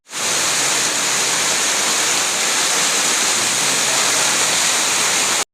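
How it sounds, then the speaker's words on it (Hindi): Waterfall in the hills of Bageshwar, a steady broadband roar of falling water that stays loud and unbroken throughout, with no voices. "यहाँ पर आप देख सकते हैं तो ये एक झरना बना हुआ है"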